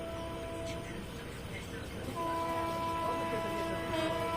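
The Subedarganj Dehradun Express approaches from ahead, a distant rumble with a steady horn tone rising partway through, heard from another train running at about 110 km/h, faint and low overall.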